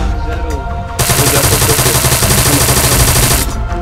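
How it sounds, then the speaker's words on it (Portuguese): Gunfire aimed at a car tyre in the video game Arma 3: a sustained burst of rapid, loud shots that runs for about two and a half seconds, close and unbroken. "Tô atirando o pneu pra desabilitar."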